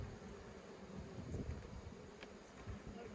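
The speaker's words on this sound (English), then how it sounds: "There's a couple of nurse bees in there." Nurse bees buzz in a faint, continuous hum close by inside a queen push cage, a low steady drone with small fluctuations and no talking.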